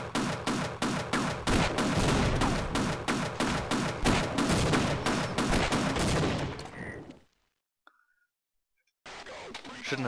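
Rapid, loud bursts of gunshots in the video game Half-Life, a dense barrage that runs for several seconds, then cuts to near silence before the noise returns.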